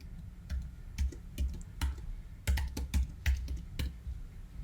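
Typing a password on a computer keyboard: about a dozen distinct, close keystroke clicks in uneven bursts over a quiet background.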